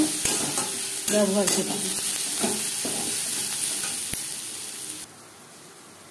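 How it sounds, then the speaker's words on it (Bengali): Onions with a little red chili powder sizzle steadily in a pan for aloo paratha. A spoon stirs them in a few scraping strokes, and a voice speaks briefly. "পেঁয়াজ ভাজতে ভাজতে"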